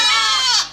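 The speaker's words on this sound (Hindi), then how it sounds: "बकरी सब" Goat bleating loudly and close, a single sustained harsh nasal cry with a wavering tremolo that trails off at the end.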